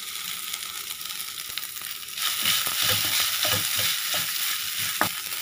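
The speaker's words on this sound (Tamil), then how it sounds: "துருவி வச்ச தேங்காவை நல்லா ஃப்ரை பண்ணிக்கிட்டோம்." Grated coconut frying with garlic and ginger in a pan, a close hissing sizzle that grows louder midway, punctuated by scraping stirring strokes.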